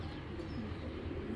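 A Giribaz pigeon, a big-sized Cheetah Silver hen, coos softly in a cage, a low faint rolling murmur against a steady background hum.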